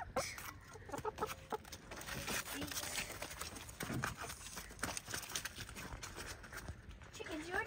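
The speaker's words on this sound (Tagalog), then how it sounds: "Chickens, you already have food." Chickens cluck in a garden, with soft irregular clucks and scratchy movement close by while a person talks over them.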